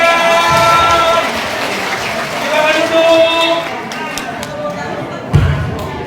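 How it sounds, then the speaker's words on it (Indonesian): A group claps hands together at an elderly community health gathering in Indonesia, a dense patter of clapping under cheerful voices and background music, ending with a single thump. "tepuk tangan"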